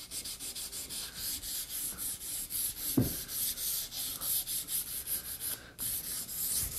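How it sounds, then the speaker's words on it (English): Sandpaper rubbed back and forth over a waxed axe handle, a close, loud, rhythmic scraping of regular strokes, with one sharp knock partway through and no voices. "And then run your sandpaper over the waxed surface here."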